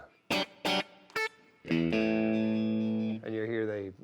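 An electric guitar plays a few short plucked notes, then rings out a sustained high note soaked in heavy reverb and effects, loud and close, with a second bent note trailing after.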